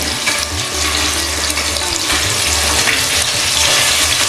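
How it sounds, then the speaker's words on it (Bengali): Rohu or katla fish pieces fry in a pan over low-to-medium flame, giving a steady, even sizzle with a faint watery hiss that holds without pause for the whole stretch. "একটু এপিট ওপিট করে মোটামুটি একটু ভাজলেই হবে"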